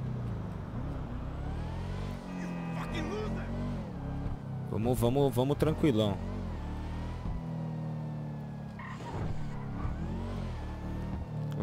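A car accelerating in the video game GTA V, its engine revving steadily and climbing in pitch with a louder surge midway, while someone talks over the engine noise.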